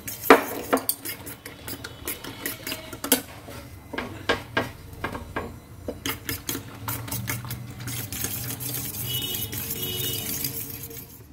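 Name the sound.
whisking two eggs with chili flakes and salt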